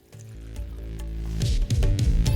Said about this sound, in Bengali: তখন এখানে দিয়ে দিন যে স্টকটা বানিয়ে রেখেছিলেন সেটা।